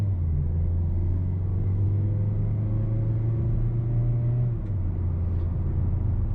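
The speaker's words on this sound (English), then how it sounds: "So you get a fun little sporty takeoff." A 2019 Mazda CX-3 Sport pulls away from a stop with a steady, close engine rumble and a rising drone that drops as it shifts, heard alone inside the cabin.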